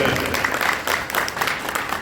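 An audience claps in welcome for a police inspector-general at a Sant Ravidas Jayanti gathering in Lalgarh, Bikaner: brisk, uneven applause of moderate loudness with individual claps standing out, running the whole clip.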